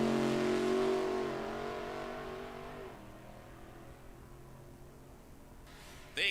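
A nostalgia funny car making a drag run at a raceway, its engine note loud and steady at first, then fading into the distance and dropping to a low background rumble.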